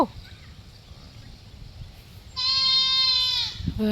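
A calf calls once in a long, drawn-out bleating moo, loud and close, after a quiet stretch of low background noise.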